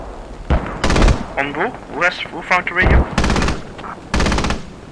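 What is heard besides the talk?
anti-aircraft gunfire in the video game Squad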